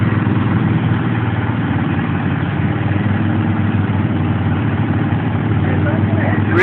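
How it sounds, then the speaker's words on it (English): Several tractor engines run steadily at a tractor race, a dense continuous low rumble and drone heard loud and near throughout, without a break. "Tractor racing."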